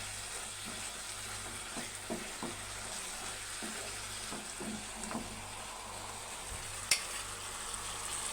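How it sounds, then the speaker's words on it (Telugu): Eggplant and egg curry frying in a pan, with a steady, soft sizzle throughout and occasional light scrapes and taps of stirring; one sharper click near the end. "మొత్తం కలిసేలాగా ఫ్రై చేసుకోవాలి"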